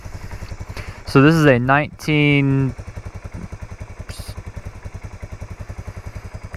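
A 1978 Honda Big Red 250 ATC three-wheeler engine idles with steady, close, even thumping pulses throughout while someone talks briefly over it.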